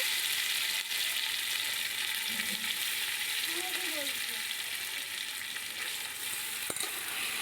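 Rice fries in ghee with bay leaf and ginger in a pot, a continuous hissing sizzle with faint stirring scrapes, steady and fairly close, with no talk.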